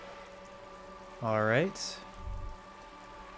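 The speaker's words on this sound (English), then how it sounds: "Oh, it's starting to rain." Steady rain in the video game Disco Elysium hisses softly and continuously in the background while someone speaks briefly over it.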